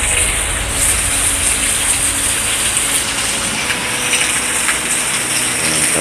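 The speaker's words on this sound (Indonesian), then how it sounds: "Allah yang menentukan hujan turun" Heavy rain pours down in a steady, dense wash during a downpour around a vehicle caught in a storm, constant and loud with no pauses and no voices.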